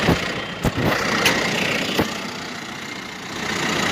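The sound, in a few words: mowing tractor engine idling at lowered RPM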